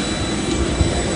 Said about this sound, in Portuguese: Avião! Avião! Dá tchau! Avião!